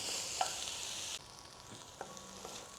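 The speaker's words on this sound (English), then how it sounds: "we're just going to stir this around and try and keep it in the pot until it gets softened down" Chili ingredients softening in a pot on a smoker are stirred with a low frying sizzle, a few light spoon clicks and scrapes sounding close, with no talk.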